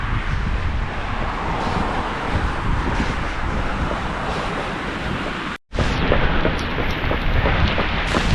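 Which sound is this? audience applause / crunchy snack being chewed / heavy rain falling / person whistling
heavy rain falling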